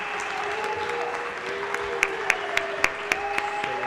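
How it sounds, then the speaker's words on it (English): Applause for the clerks breaks out at a House floor session. A few distinct, fairly sharp claps stand out over a murmuring room with faint tonal hum, building briefly in the second half. "can we please give a big hand of applause to the clerks?"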